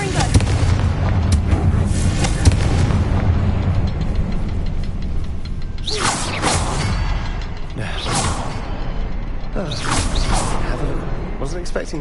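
Fiery Confringo explosive spell cast during Hogwarts Legacy combat, heard as loud whooshing blasts around six and ten seconds over a dense, continuous battle din with music and voices.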